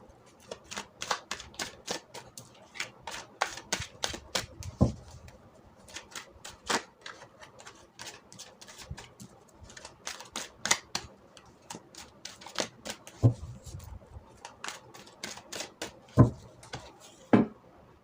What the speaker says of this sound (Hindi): पाइल 1 आपके लिए कार्ड शफल कर लेते हैं